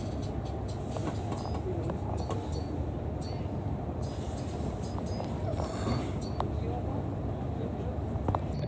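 A London Overground train running between stations on the Gospel Oak to Barking line, a steady low rumble of the carriage in motion with faint clicks, while an announcement voice speaks over it.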